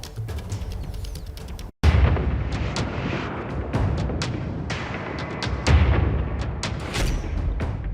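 Shoulder-fired rocket-propelled grenades and gunfire crash repeatedly, a dense series of loud booms and sharp blasts after a brief gap, with no voices.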